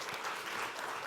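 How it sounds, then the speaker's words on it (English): An audience claps after a presentation at a startup pitch event, a short burst of dense, steady applause. "So I think you should get the additional round of applause for that."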